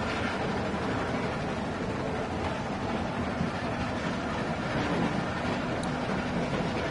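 Steady rumble of a moving train in The Walking Dead video game, a continuous broadband roar with faint rhythmic rattle that stays close and constant throughout, with no voices over it.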